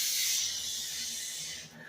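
A paint sprayer blasts paint onto a wall, giving a loud, steady airy hiss that tapers off slightly near the end, close up with no talking.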